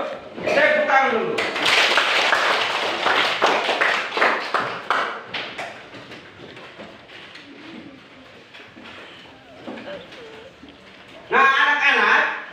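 A group of schoolchildren clap their hands together in a classroom, giving a burst of quick claps that fades and then briefly returns. Voices can be heard talking around the clapping.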